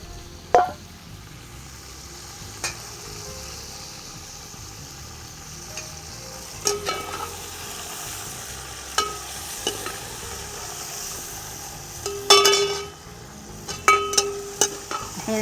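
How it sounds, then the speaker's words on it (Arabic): Chicken, onion and garlic sizzle steadily in a pan while a utensil stirs them, with intermittent scraping and clinking against the metal over a constant frying hiss. "الحين نحوث البصل والدياي والثوم"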